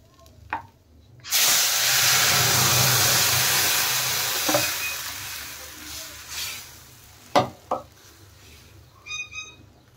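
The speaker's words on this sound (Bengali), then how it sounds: "এখন আমি ডাল ঢেলে দেব।" Moong dal poured into hot tempering in a pan bursts into a loud sizzle and steaming hiss that slowly fades, followed by a few sharp clatters and scrapes.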